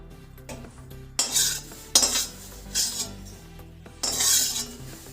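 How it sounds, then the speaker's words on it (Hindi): Cooked bathua leaf stuffing scraped from a pan into another utensil with a metal spoon: several loud scraping clanks in bursts over a low background hum. "तो अब हमने इसे एक बर्तन में पलट लिया है"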